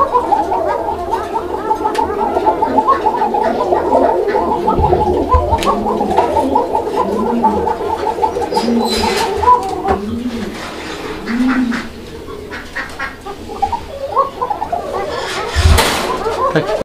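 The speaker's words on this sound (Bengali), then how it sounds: "এটাও রানিং পেয়ার, ডিম বাচ্চা করা, এবং এটা মাক্সি রেসার কবুতর" Racer pigeons, a breeding pair among fancy pigeons, give repeated soft cooing calls throughout, a steady warbling chorus close by with occasional rustles and bumps, no talk.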